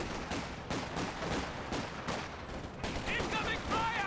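Bursts of gunfire and shell impacts from a Sexton self-propelled artillery barrage in the WWII strategy game Company of Heroes 2 crackle continuously at moderate level, with repeated sharp hits over a busy battlefield din.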